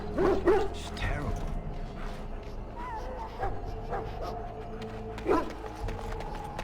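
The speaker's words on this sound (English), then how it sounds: "Half the dogs are sick." Hounds in the video game Dragon Age: Origins give a few barks and whimpers, with creaking and low background ambience underneath and brief speech-like sounds between them.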